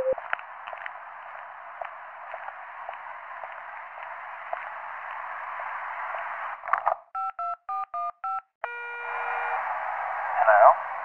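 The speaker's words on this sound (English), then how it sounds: "Please press any digit on your phone" Telephone keypad DTMF tones heard over a 911 call line: a narrowband hiss of phone-line noise, then a quick sequence of about five distinct dual-tone beeps, followed by a longer tone.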